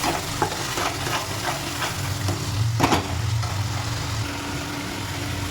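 Spice water with cumin and black pepper powder hits a hot pan while a Malabar spinach and taro dish cooks, giving a steady broadband sizzle with a few light stirring scrapes and a brief louder burst midway.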